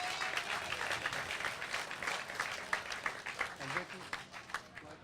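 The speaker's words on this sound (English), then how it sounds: "Can we all get a round of applause for Vicki?" An audience at a transit operator of the year award event applauds an honoree, a steady wash of many hands clapping that carries through the whole moment with a few louder individual claps near the end.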